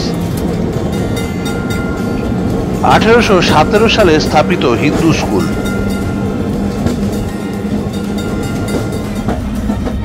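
A heritage tram runs along College Street in old Kolkata with a continuous rolling rumble and faint clatter, while a narrator speaks over it and a brief burst of nearby voices rises in the middle.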